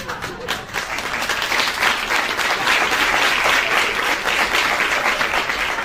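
Audience at a stand-up comedy show applauding steadily, a dense wash of clapping that holds at full strength for several seconds with no voices over it.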